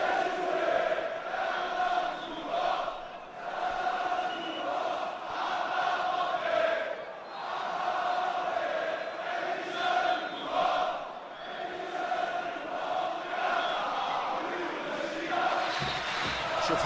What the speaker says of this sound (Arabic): شوف حتى الجماهير اللي مش قاعدة في الكورفة الخاصة بالوداد حافظين الأغاني لهذا الجمهور الممتع